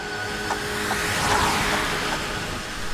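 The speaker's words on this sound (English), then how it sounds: "Driving up towards the house, she saw Tiffany's car in the driveway." A car drives up toward a house, its engine and road rumble holding steady and moderately loud over a few seconds, with a faint rise in the middle and no talk.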